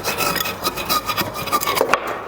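A hand saw cuts back and forth through wood while a puppet stand is being built, making loud, rhythmic rasping strokes that repeat quickly and close up, with no talking.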